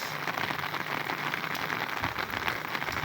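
Rain falling at a harbor in Biliran as a storm arrives, a steady dense patter of drops on surfaces throughout, even and fairly close, with no voices.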